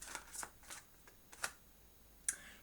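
Tarot cards shuffled and drawn for a reading, giving soft papery riffles and flicks in short separate bursts with a sharp card snap near the end, faint and close, with no voices.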